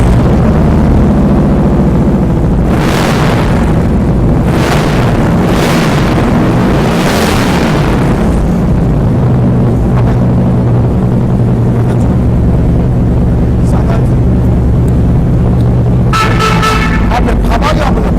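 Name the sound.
Harley-Davidson CVO Ultra Classic motorcycle engine starting and running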